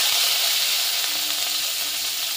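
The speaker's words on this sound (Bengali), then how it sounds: "শুটকি মাছ আর পটল একসাথে ভেজে নেব" Dried fish and pointed gourd frying together in a little oil in a wok give a loud, steady, dense sizzle with no pauses and no voices.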